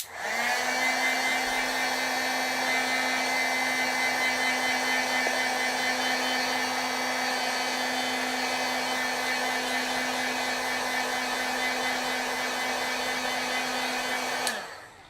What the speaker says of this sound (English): I'm going to try drying this a little bit.